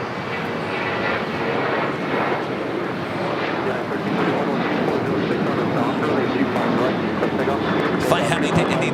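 An American Airlines Boeing 737-800 jet at LAX roars loudly and continuously, a broad engine rumble swelling slightly toward the end, with talking over it.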